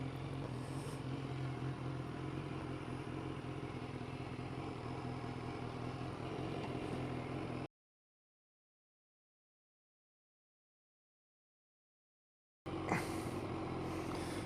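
Motorcycles pass by or idle nearby outdoors in spring, a steady broadband engine rumble running for about seven seconds, then a sudden cut to silence before the engine noise returns briefly.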